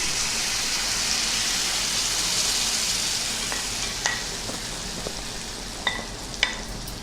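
Beaten vegetable omelet egg mixture hits a hot pan and fries with a broad, loud hiss that slowly eases, while a few sharp clicks and scrapes of a utensil cut in near the end.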